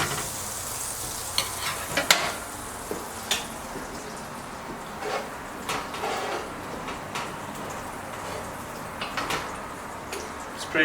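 Butter melting in a pan for homemade cannabutter edibles, giving a soft, steady sizzle with scattered light pops and clicks, fairly quiet and close throughout.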